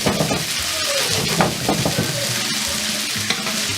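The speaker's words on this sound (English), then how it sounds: "just shake your frying pan." Meatballs fry in a frying pan that is being shaken, giving a steady close sizzle with soft sliding and rattling as they roll around.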